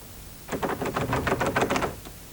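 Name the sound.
knocking on a locked door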